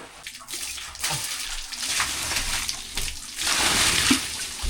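Water is scooped and poured for washing, splashing and sloshing in several uneven pours over a few seconds, close by and fairly loud.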